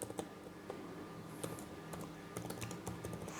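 Quiet clicking of computer keyboard keys as Python code is typed, a rapid irregular run of close keystrokes without speech.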